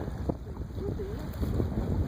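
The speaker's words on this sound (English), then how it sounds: "It's kind of windy." Wind buffets the microphone with a steady low roar while kayaking on Shoshone Lake, water lapping faintly beneath, and brief voices in the background.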